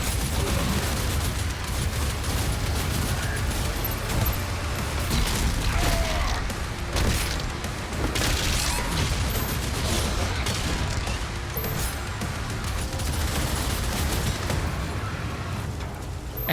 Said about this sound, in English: The Shredder is a full auto weapon that launches a barrage of barbed spikes at enemies.